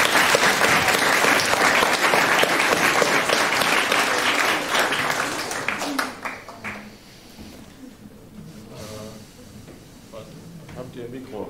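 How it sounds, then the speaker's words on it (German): A youth hackathon audience in Hamburg gives loud, dense applause for a team, which fades after about six seconds into a quieter room where a voice begins to speak. "großen Applaus für Minerooms."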